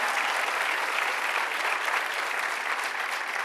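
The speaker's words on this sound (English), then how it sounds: "let's give Barnard and the leadership a big round of applause" An audience at a legislative event with the governor bursts into applause for the leadership, a dense, even roar of many hands clapping that stays loud and steady throughout, with no voices above it.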